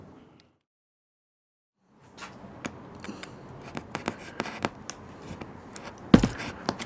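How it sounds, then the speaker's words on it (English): Sharp knife scoring and trimming vinyl flooring planks on a tabletop, a quiet start followed by scattered scraping and cutting strokes, with one louder snap near the end. "you should be able to trim this up with a sharp knife"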